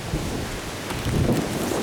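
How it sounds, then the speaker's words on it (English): A wind and rain storm blows outdoors at night by a carp fishing spot, a dense, steady roar of rain and gusting wind with low rumbles, no voices. "It's very windy and it's very rainy"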